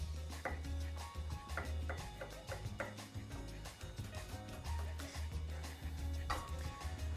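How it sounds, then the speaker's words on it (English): A knife chops two garlic cloves on a board with a quick, uneven run of close, crisp taps that keeps going the whole time, with no talking. "Going to chop 2 garlic cloves."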